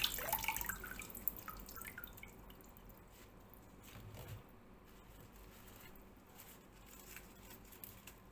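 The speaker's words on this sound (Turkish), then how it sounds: "suda bir kere yıkamış oluyorum. Bir tozu pisliği gitsin." Garden-picked grape leaves are rinsed in a bowl of water, giving soft drips, splashes and wet squishing throughout, quiet and close, with no talking.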